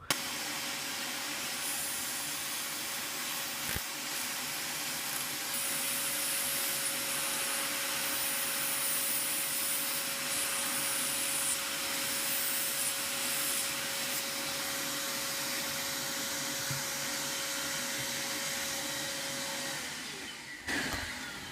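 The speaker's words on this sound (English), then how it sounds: "we're just gonna putting a cut on top of the Dremel" Dremel rotary tool cutting a Tamiya Mini 4WD carbon fiber under guard, giving a steady high whine with gritty grinding noise that runs without a break for about twenty seconds.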